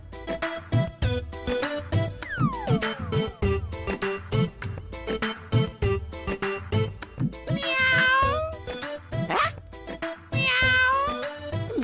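A cat meows repeatedly, several drawn-out and rising cries spread through the stretch, with a few louder squalling calls near the end, close by.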